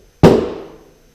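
A hammer strikes a punch on the metal front panel of a Volkswagen Westfalia bus, a single sharp metallic strike ringing out once, close and loud, then decaying quickly into silence.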